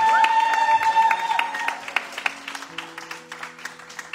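A church congregation claps in scattered applause during a sermon, the claps sparse and uneven over a sustained organ-like musical tone, fading gradually toward the end.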